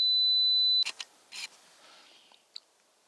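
A camera's two-second self-timer on an outdoor woodland shoot of frost-covered small pines gives a steady high beep lasting under a second, followed by a few sharp shutter clicks and a faint final click.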